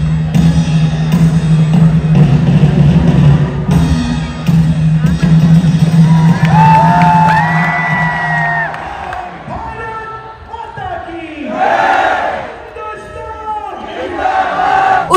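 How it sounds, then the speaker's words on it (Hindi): A large crowd roars and hoots at the Attari-Wagah border retreat ceremony in Amritsar, a loud sustained mass of voices with rising whoops and swelling cheers, continuing without pause for about fifteen seconds. "रिट्रीट के एंड में जो गेट है वो ओपन कर दिया जाता है, और उस पे जो हूटिंग होती है"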